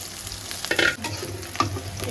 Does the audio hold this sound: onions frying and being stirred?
yes